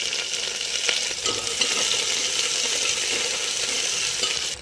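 Fenugreek, cumin, mustard seeds, green chilli and chopped onion fry in hot oil for a Nepali dish, with a loud, continuous close-up sizzle and occasional scraping as the pan is stirred.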